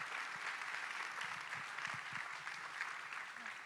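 A school TEDx audience applauds steadily, a dense wash of clapping from a large crowd that holds at an even level throughout, heard from a distance in the hall.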